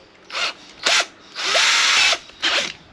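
A power drill whirs in four bursts while drilling into the side of a boat's bait board: two short, then a long sustained run, then another short burst, close and loud.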